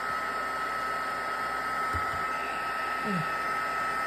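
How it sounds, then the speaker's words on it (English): Heat tool blowing hot air to dry stamped ink on a handmade card, a steady close whooshing drone with a constant fan whine throughout, a couple of faint knocks underneath. "I'm just going to hit this again with the heat tool and dry those areas that I kind of touched up."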